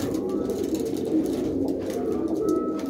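Pigeons coo in a loft of racing birds, a low continuous burbling close by with a faint voice in the background.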